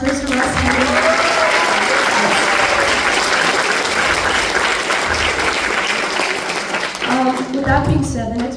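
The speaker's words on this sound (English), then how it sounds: "So another round of applause for Mr. Russ Henning." A school band fall concert audience applauds for a teacher with dense, steady clapping throughout that fades slightly near the end, where a voice begins.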